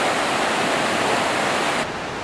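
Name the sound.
river flowing just above Burney Falls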